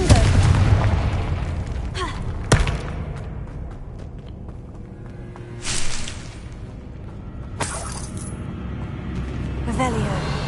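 Fiery Confringo spell blasts in Hogwarts Legacy land as a few loud booming bursts over a continuous rumbling game background, with a sharp crack early on.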